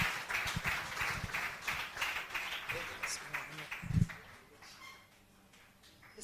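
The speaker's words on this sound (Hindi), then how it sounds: "जोरदार तालियों से हम स्वागत करेंगे स्टीफन बेनन" Loud applause from a church audience welcoming a pastor to the stage, dense clapping for about four seconds that then thins and fades, with a thud near the end and some talk mixed in.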